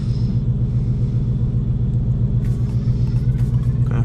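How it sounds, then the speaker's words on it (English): A Ford Mustang GT with the MT82 manual transmission pulling hard in first gear on a road in Mexico, a loud, close, continuous low engine rumble that holds steady throughout. "Let's just do a first gear pull"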